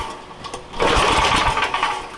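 An old engine that has sat unused for more than ten years cranks on choke and tries to fire, giving a buzzy, uneven mechanical rattle that grows louder and rougher partway through, with no voices.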